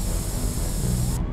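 Spray paint can hissing out graffiti in The Warriors PS2 video game, a steady broadband spray that runs continuously for over a second before cutting off abruptly near the end.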